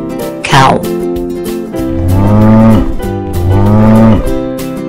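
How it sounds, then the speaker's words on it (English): A cow moos twice in a children's animal song, each call long and loud and sitting over a steady musical backing, after a brief higher sung sound at the start. "Cow."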